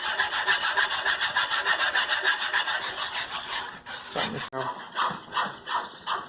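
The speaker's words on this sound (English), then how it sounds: "And now I'm going to just keep stirring until it becomes nice and thick." Homemade frosty mixture being stirred until thick, a fast, steady, rhythmic scraping and rubbing of a utensil in a container, close and continuous with a brief clatter near the end.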